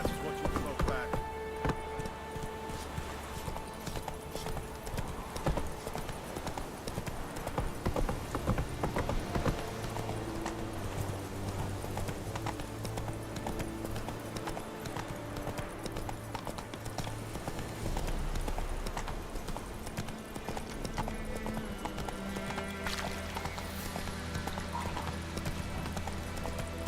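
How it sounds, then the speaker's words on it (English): Roach, the horse in the video game The Witcher 3, gallops with rapid, steady hoof clip-clops throughout, layered over game music and ambience while a person speaks intermittently. "Whoa there, Roach"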